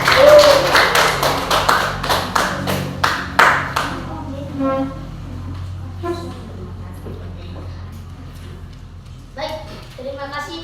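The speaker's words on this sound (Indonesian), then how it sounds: "Tepuk tangan dulu." A classroom group claps in a brisk, rhythmic burst of sharp, close claps for about four seconds, then quiets as a person begins speaking.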